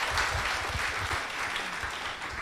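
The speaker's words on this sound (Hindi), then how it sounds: "इनके लिए ताली तो बजाइए।" An audience claps steadily throughout a live stage event with a celebrity guest, a dense, continuous burst of applause.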